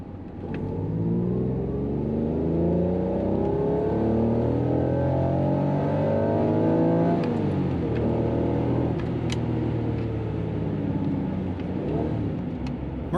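An Acura NSX driving on the road with a fuel-pump hesitation fix fitted, its engine note climbing steadily under acceleration, a brief drop as it shifts, then rising again, loud and continuous from inside the car.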